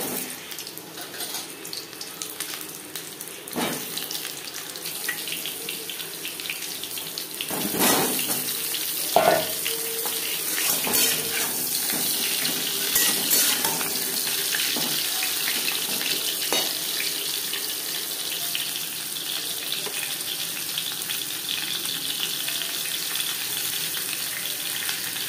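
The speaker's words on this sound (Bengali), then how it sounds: "আলু ভেজে নেব।" Potatoes fry in hot mustard oil for stuffed aloo dum, a broad crackling sizzle that swells partway through with clinks of a spatula, then stays loud and even.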